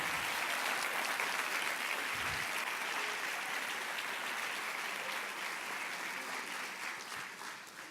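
A church congregation applauds loudly and steadily, a dense wash of clapping that holds throughout and eases slightly toward the end.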